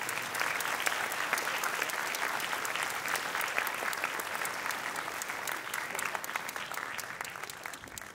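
A crowd applauds steadily for several seconds at a primary school sports awards ceremony, a dense patter of clapping that stays even and moderately loud before tapering slightly at the end.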